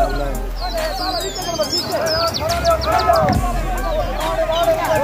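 Racing pigeons released at the start of a pigeon-flying competition in Pakistan coo and flutter amid a steady outdoor hubbub of distant voices and chatter, with occasional chirps rising above the background.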